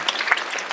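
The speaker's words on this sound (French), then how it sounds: "Je crois qu'il faut applaudir." Brief burst of audience applause after a talk by author Erik Orsenna, a dense wash of clapping at fairly close range with no speech over it.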